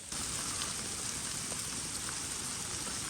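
Rain falls steadily on a roofless church ruin, a dense, even hiss that holds at the same level from start to finish, close around the listener with no voices.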